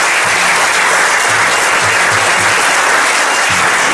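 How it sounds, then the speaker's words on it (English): A school speech day audience breaks into loud, dense applause that holds steady without letup for several seconds, many hands clapping together close and full. "That deserves your round of applause."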